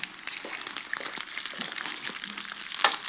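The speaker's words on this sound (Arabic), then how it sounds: "شوفي دوكا كي كنقلوه مليح هذا الدجاج حتى يحمر." Chicken pieces frying until browned in a pan, with a busy crackling sizzle broken by scattered pops and stirring scrapes, fairly close and unbroken by speech.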